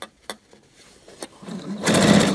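A sewing machine stitches the side seam of a skirt with smocking elastic, starting after a few faint clicks and then running as a fast, close buzzing rattle for the final half second.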